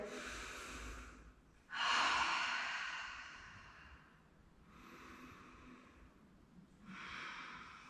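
Slow cleansing breaths during a yoga session, a few long audible exhales and inhales through the nose and mouth, close and soft, separated by quiet gaps.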